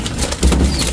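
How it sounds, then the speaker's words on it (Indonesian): A cucak timur songbird at a bird market calls in a brief, loud burst of chirps and whistles against busy background noise. "Cucak timurnya sudah ngepur."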